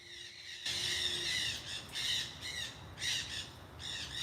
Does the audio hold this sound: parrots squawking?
yes